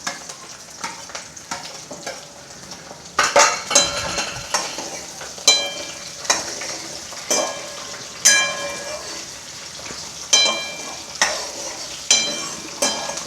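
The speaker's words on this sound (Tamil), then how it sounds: "வதங்கட்டும் வெங்காயம் வதங்கட்டும்" Onions sauté for vatha kuzhambu with a loud, steady sizzle, punctuated by regular scraping strokes of a spoon stirring the pan. Close up, with no speech.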